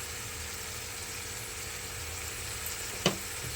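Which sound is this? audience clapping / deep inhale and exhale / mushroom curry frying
mushroom curry frying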